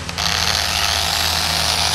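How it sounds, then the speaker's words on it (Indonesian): An electric drill runs on a cheap 220-watt inverter, a harsh, steady buzzing whine with a low strained hum, starting abruptly and holding constant for a couple of seconds. "Ternyata untuk tes bor kurang bagus ya teman-teman ya, karena memang ini hanya 220 watt"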